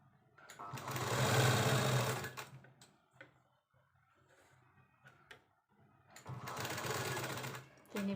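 A sewing machine stitches a square patch onto a simple baby frock in two close bursts of rapid needle chatter, each lasting over a second. Quiet handling noises and faint talk fill the pause between them.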